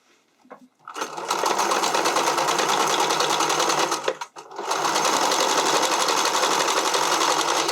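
Sewing machine stitching elastic onto the fabric of a skating dress, a loud, steady, fast mechanical whir that runs continuously with one brief pause in the middle, close up and with no talking.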